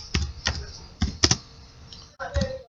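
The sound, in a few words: typing on a computer keyboard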